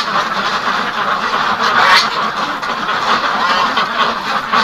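Ducks quack repeatedly close by in -34°C windchill, a dense, continuous chorus of nasal calls with no talking.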